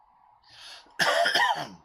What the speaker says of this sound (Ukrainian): можу кашляти, не звертайте увагу